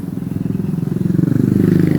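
A motorcycle passes close by on a street in early evening, its engine droning and rising in pitch as it approaches, loud and dominant.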